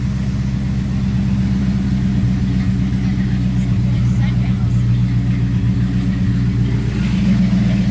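A 1979 Corvette with a 350 small-block V8 rumbles loudly and steadily nearby, the engine held at a raised idle with slight revving, and no talk is heard.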